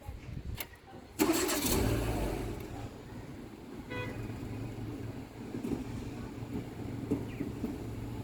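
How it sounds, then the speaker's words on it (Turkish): A Renault Megane 2 engine cranks and catches after a battery change, with clicks before a sudden start, then settles into a steady, quiet idle. "Şimdi aracımızı çalıştıralım bakalım herhangi bir sıkıntı var mı arkadaşlar."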